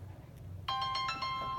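A phone ringtone bursts in partway through, a bright repeating electronic melody of sustained tones that continues steadily over low background rumble.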